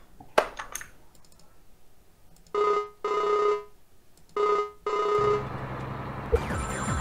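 Phone call ringing in Farming Simulator 19: two pairs of electronic ring bursts sound in regular rhythm, clear and close, following a few clicks, then low background hum.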